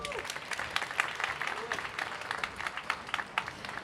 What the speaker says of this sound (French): Vous pouvez vous applaudir, s'il vous plaît.